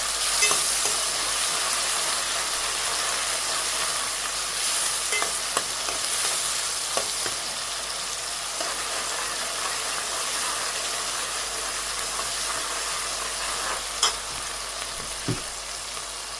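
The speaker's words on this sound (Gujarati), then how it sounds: "હવે મિક્સ કરવાનું બધાને પાકવા દેવાનું આવી રીતે." Vegetables and fenugreek sizzle and fry steadily in hot oil as a spoon stirs the pan, a dense continuous hiss with occasional scrapes, no voices.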